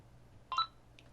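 A short electronic phone ringtone chimes once from an in-game phone call in the visual novel Angels with Scaly Wings, a brief clear tone burst over quiet background hum.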